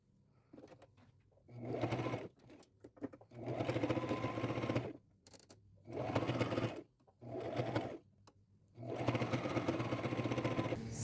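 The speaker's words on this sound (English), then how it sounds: "And I will sew both sides, and here I'll do the same thing." Sewing machine stitching a crochet doily onto a t-shirt for a lace boho vest, running in several bursts of a few seconds each with short pauses between, close and fairly quiet.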